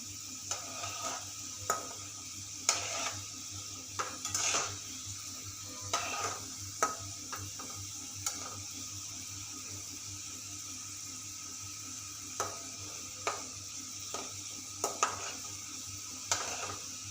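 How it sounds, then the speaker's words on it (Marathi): Modak cooking in a pan for Ganesh Chaturthi, a faint steady sizzle with intermittent scraping and clinking of a spatula against the pan, no talking. "आपले मोदक आता छान मस्त थोडे शिजत आलेले आहे"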